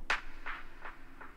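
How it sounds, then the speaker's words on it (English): A bright percussive hit followed by three echoing repeats that fade progressively, washed in reverb over a quiet background. "there is a lot of reverb and delay. It sounds like this."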